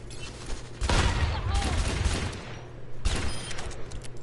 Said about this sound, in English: I'm actually gonna do 2 sniper shots.